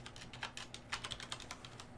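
Quick, irregular keystrokes on a computer keyboard as a folder name is typed, close and fairly quiet, with clustered taps and short pauses over about two seconds and no voices.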